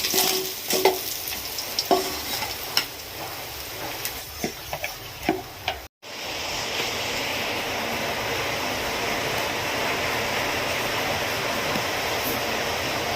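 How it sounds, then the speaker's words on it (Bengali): Tengra fish frying in hot mustard oil in a pan, a steady loud sizzle that fills the clip, with several sharp clinks and knocks of utensils early on before the sizzling settles into an even hiss. "বাকি মাছগুলো আবার ভাজবো।"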